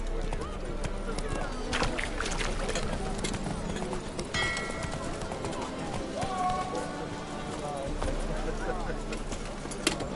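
Roach the horse trots along in The Witcher 3, hooves clip-clopping steadily through a busy ambient scene with birds, while a voice speaks over the hoofbeats.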